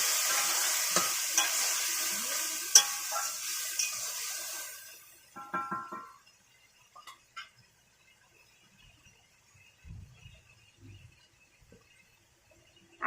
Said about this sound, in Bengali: এবার দিয়ে দেবো পেঁয়াজ বাটা, আদা বাটা আর কাঁচা লঙ্কা বাটাটা।